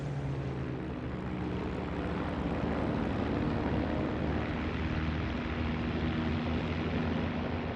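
A Spitfire fighter aircraft flies past, its propeller engine giving a steady, loud, continuous drone throughout with no speech.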